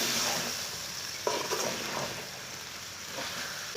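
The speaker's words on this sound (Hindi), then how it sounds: "इसे लाजमी 3 मिनट तक भून लेना।" Potatoes and cauliflower stir-fry in a pan for aloo gobi, a steady close sizzle with occasional stirring scrapes running throughout.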